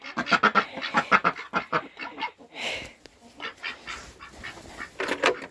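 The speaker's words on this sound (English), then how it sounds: "And we got our ducks, Donald and Daisy." A rapid series of nasal quacks from ducks nearby, coming in quick bursts, then a short pause before more quacking resumes.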